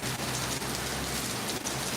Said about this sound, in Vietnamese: ông trời đã cho cơn mưa đầu tiên tại năm 2023